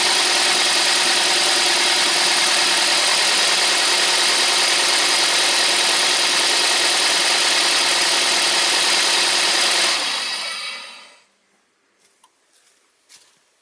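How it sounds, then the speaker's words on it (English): A 2000–2010 Toyota Camry engine idling roughly with a broken ignition coil, a loud, continuous close-up rumble for about ten seconds, then cutting off to near silence with faint clicks. "the issue is that this engine was shaking and moving that way"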